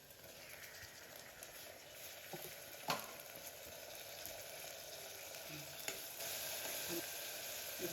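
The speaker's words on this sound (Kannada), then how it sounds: "ಈಗ ಈರುಳ್ಳಿ ರೋಸ್ಟ್ ಆಗಿದೆ. ಈಗ ಟೊಮೊಟೊ ಹಾಕ್ತೀನಿ." Faint, steady frying hiss from onions and tomato cooking in oil in a pan for saagu, with a few light clicks and stirring knocks scattered through.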